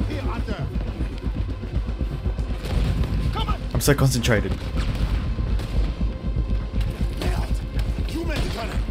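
Deep booming cannon shots and rumbling blasts repeat amid Red Dead Redemption 2 game noise, while a voice talks over the action.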